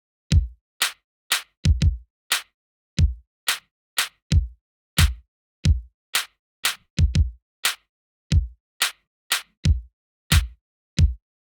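Self-made drum beat pattern for a song, sharp isolated drum hits in an uneven repeating rhythm, close and punchy with silence between strikes, no talking.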